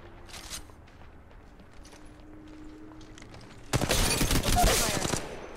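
Gunfire in Apex Legends Mobile, a few faint distant shots at first, then a loud close burst of rapid automatic fire lasting almost two seconds near the end.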